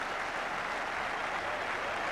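Cricket crowd at Kanpur applauding during a one-day international, a broad, steady roar of clapping from a large stadium audience that carries on unbroken, fairly loud and diffuse, with no voices standing out.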